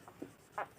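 Faint scratching of a pen writing out a formula for a class 8 maths problem, a few brief strokes in a quiet room.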